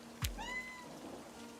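A cat gives a single short meow just after a soft thump, against a faint, steady background hiss that may be rain.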